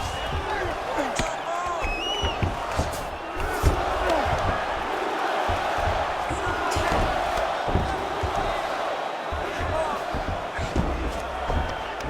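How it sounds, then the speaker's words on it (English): A crowd at a UFC fight roars continuously and excitedly, a dense, loud wash of voices with scattered shouts and thuds, while a commentator talks over it. "Crowd may be drunk, but they're absolutely loving it."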